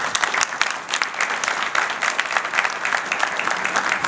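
Loud, sustained applause from an audience at an investment forum, dense clapping continuing throughout without a break.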